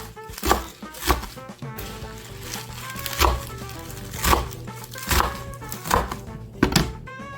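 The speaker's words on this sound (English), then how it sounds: "So you want to roughly cut your spinach into whatever size you want." A knife roughly chops organic baby spinach on a cutting board in a series of sharp, close thunks. The strokes come at an uneven pace, several seconds long, with no talk.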